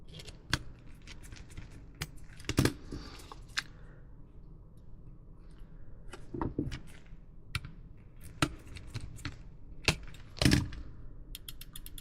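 Sharp, dry plastic clicks from a Nintendo DSi trigger button being pressed on a repaired console, coming in a sparse, uneven series of single taps and a few quick doubles, close and fairly quiet.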